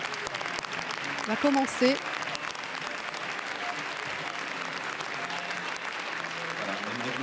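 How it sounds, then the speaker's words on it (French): The film crew applauds in the Grand Théâtre Lumière at Cannes, continuous hall-filling clapping from a large crowd, with a voice speaking briefly over it. "Toute l'équipe du film applaudit dans la grande salle lumière"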